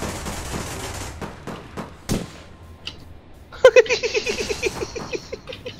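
Gunfire in the online shooter APB: a few scattered sharp shots, a pause, then a rapid automatic burst of evenly spaced cracks, fairly close and loud.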